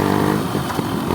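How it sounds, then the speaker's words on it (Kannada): A Yamaha RX two-stroke motorcycle engine revs in a brief, loud, close burst, its buzzy, harmonic exhaust note rising and falling with no talk. "RXಲ್ಲಿ ಬೀಟ್ ಹೊಡಿತಾ ಇದ್ದೀವಿ"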